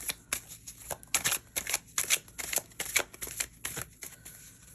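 A tarot deck being shuffled and cards drawn from it, a rhythmic run of crisp card riffles and slaps in quick bursts, close and clear with no talk.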